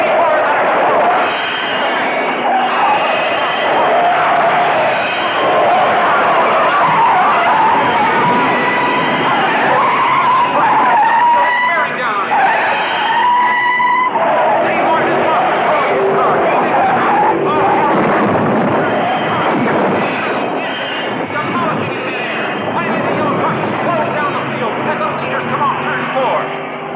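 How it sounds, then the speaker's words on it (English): A race car at Daytona skids out of control, a long, loud roaring screech of tires and engine under a crowd's hubbub, while an announcer talks over it throughout. "Car 84 is out of control."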